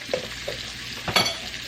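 Minced garlic, a tablespoon of it, stirred into a frying pan while preparing smothered cube steak, with a spoon scraping the pan in a few short strokes over a soft background sizzle.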